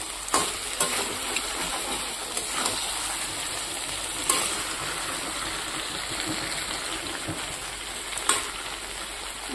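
Meat and potatoes sauté and sizzle in a hot pan, a steady close frying hiss broken by occasional stirring scrapes and clinks, with no talk.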